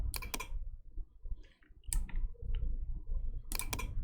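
Computer mouse clicked to copy a graph, crisp close clicks in short bursts at the start, in the middle and near the end, with quiet room noise between.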